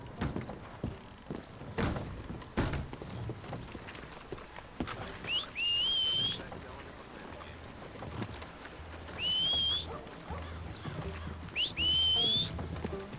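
Horse hooves clip-clop in Red Dead Redemption 2, scattered uneven thuds of the animal moving while sharp whistle calls ring out three times over the hoofbeats.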